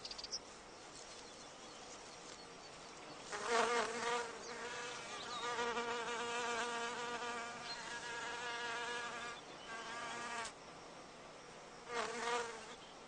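A male wasp buzzes and flies around a wild orchid as it tries to mate with the flower, its whining drone swelling in several close, loud bursts and then fading between them.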